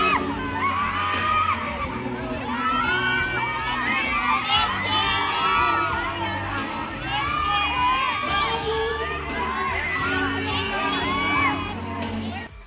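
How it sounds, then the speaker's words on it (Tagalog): An audience at a mall show for the Encantadia Chronicles: Sang'gre cast cheers and squeals loudly and steadily, with shrieking fans and children's shouts merging into a dense, continuous roar. "Todo kilig ang crowd kang Kelvin Miranda o si Adamus nga dunay giharanahan on stage"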